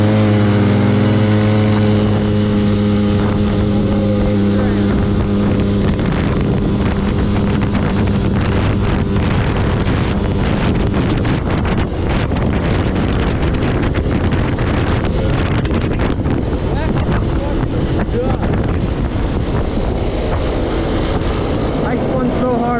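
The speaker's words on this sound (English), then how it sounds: "I spun so hard off the line." A Scrambler quad ATV, 400 or 500, launches hard off the line, its engine revving with strong harmonic tones for the first few seconds, then fading into loud, continuous wind and rough terrain noise.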